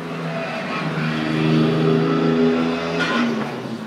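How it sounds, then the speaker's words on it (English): Historic race cars heading out onto the track at Le Mans, a loud sustained engine roar with steady throttle that swells and then eases, heard from nearby in the pit area, with no talking. "Historic cars going out."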